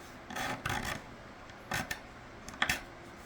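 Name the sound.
filing bass guitar frets, fret dressing to remove burrs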